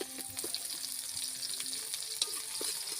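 Ginger, garlic and chili sauté in hot oil in a pan, a dense continuous sizzle with light stirring scrapes, close and steady, no talking.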